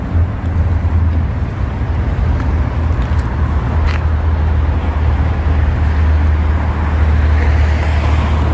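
A car rumbles past on a road close by, a steady, loud low drone of engine and tyre noise that holds for several seconds with no talk.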